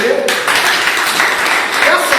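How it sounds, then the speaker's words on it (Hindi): A seminar audience in Payagpur claps loudly and steadily for a new member throughout, and a voice carries over the clapping. "एक बार जोरदार ताली बजाइए"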